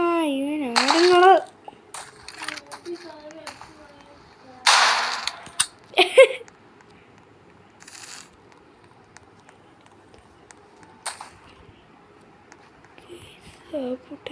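Sharp gunshots in a shooting video game, scattered single cracks and short bursts, fairly close and loud, separated by quiet gaps while a voice talks between them.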